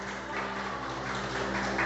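Church congregation applauding together, a steady, dense patter of clapping filling the room at moderate level with a faint hum underneath.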